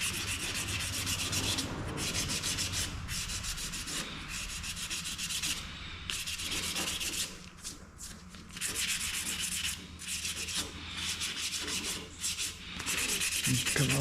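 Close, steady scratching strokes of 400 grit sandpaper rubbing over primed car trim, continuous back-and-forth sanding with brief pauses between passes.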